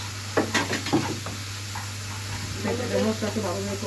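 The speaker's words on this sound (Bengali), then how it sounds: "সামান্য পরিমাণ মরিচের গুঁড়ো সবকিছুই কিন্তু একটু ভেজে ভেজে নেওয়া হচ্ছে" Chili and coriander powder fry and get stirred in a pan, soft sizzling under scraping stir strokes, with a steady low hum behind and a few clattering utensil touches near the start.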